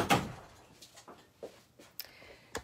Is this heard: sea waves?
no